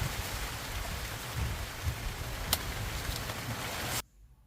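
A sudden shower over a Shine Muscat grape vineyard: steady rain pours down in a dense hiss with scattered drops striking a surface, then cuts off abruptly near the end.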